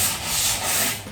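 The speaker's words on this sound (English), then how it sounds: "Now I'm just going to go on an angle like this, 45, and just take the arris off." A sanding block rubs steadily along a cut melamine edge at a 45-degree angle to knock off the arris, giving a close, continuous dry scratching with a slight swell and fade.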